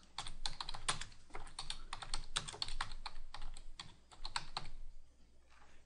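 Computer keyboard typing as alt text is entered during a Drupal 7 image upload: irregular bursts of crisp, close keystroke clicks with short pauses between them.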